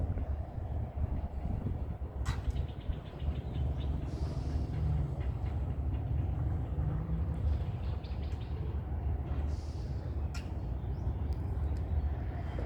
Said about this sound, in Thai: รถไฟฟ้าอีกคัน